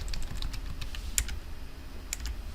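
Computer keyboard keys are pressed in a quick, irregular series of close, crisp clicks, with one sharper tap standing out; no talking.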